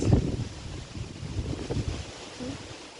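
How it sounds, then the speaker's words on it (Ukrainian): Wind gusting through a park in Cherkasy, stirring up leaves and dust as a rough, buffeting rush over the microphone, loudest at the start and easing off. "Дує, несе все листя, пилюку."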